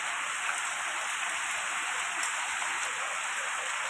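Heavy monsoon-style rain pours down in Sylhet, Bangladesh, producing a dense, continuous hiss of water drumming on surfaces. The wash is uniform and unbroken, with no voices.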